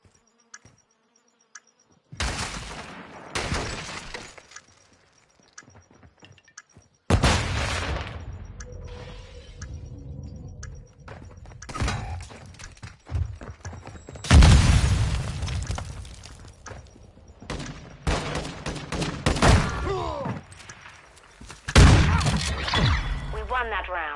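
Bomb detonations and explosions in Modern Warfare 2 online multiplayer, several loud booming bursts with rumbling tails, interspersed with gunfire and game noise.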